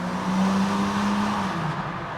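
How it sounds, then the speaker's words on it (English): A Nissan Patrol Y61 with a long tube exhaust downshifts on deceleration, giving a close, throaty engine rumble whose low droning tone slides down in pitch. "I'm just gonna shut up and downshift."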